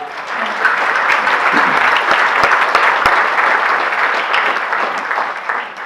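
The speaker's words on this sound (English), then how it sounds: "So let's have a big round of applause for the Grove." Sustained audience applause fills a gala celebrating sixty years of Ranch Hope, a broad, loud wash of many hands clapping steadily for several seconds without pause.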